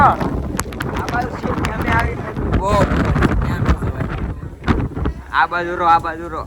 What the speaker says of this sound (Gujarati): આ બહુ પવન છે અહીંયા